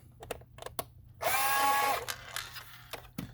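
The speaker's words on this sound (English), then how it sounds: "I'm going to take the other screw out, which is right here." A screwdriver works a screw out of the lid of an iRobot S9 robot vacuum, with small clicks and taps, then a brief grinding ratchety burst of about a second, then a few more light ticks.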